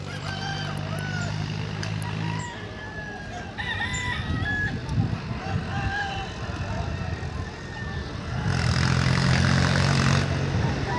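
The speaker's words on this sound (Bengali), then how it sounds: "আপনারা শুনতে পাচ্ছেন অনেক মুরগি ডাকছে।" Many chickens cluck and a rooster crows over a steady, noisy crowd murmur at a rooster-fighting event by a riverside in a tribal village, with a low engine rumble nearby that grows louder toward the end.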